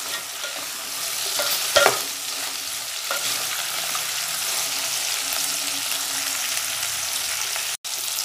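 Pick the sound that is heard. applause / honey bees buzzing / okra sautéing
okra sautéing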